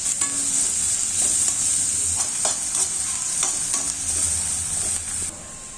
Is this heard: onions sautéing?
yes